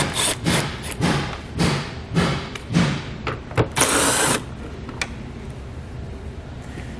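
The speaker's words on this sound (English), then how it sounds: "we'll take a 7mm socket and remove the two bolts" A 7mm socket backing out two bolts while mounting a towed-vehicle wiring kit, heard as bursts of ratcheting and scraping tool noise with clicks and a brief harsh rasp, close by, fading to quiet near the end.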